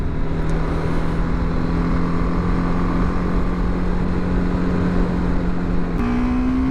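A car drives with a steady engine drone and road rumble heard from inside. Near the end the engine note jumps abruptly, marking a gear change.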